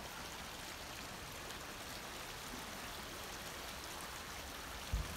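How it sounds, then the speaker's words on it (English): Little brook fed by runoff in a drainage creek, a steady broadband rush of flowing water, fairly soft and even throughout, with no talking over it. "And do you hear that sound? We found a little brook."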